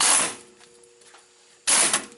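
Wrench ratcheting during an Audi A4 wheel bearing replacement: two short bursts of rapid mechanical clicking, one at the start and one at the end, separated by a quiet gap.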